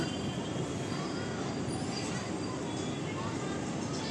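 A steady low rumble of a train rolling past at a distance behind the house, continuous throughout, with faint voices in the background.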